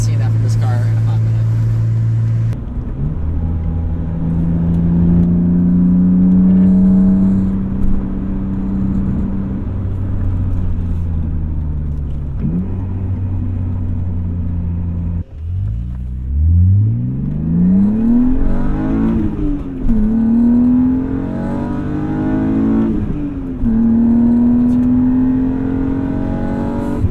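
A car's engine pulls hard from the driver's seat, its tone climbing steadily through the revs, dropping at a gearshift, then rising again through several more surges, loud and close, with a voice speaking over it.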